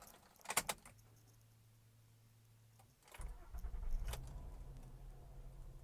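Keys jingle briefly, then after a pause a Honda Accord's engine cranks and catches on the first try, settling into a low steady idle nearby.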